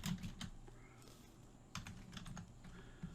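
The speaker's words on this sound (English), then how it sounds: "we're just going to type in SQL Server" Someone types on a computer keyboard, entering a search for SQL Server virtual machine types in a portal: quick, close key clicks in short irregular bursts, fairly quiet and with no talk.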